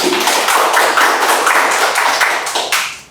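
Dense, loud applause from a live audience at a redevelopment talk concert in Cheongju, welcoming a professor to the stage, sustained clapping that thins out near the end.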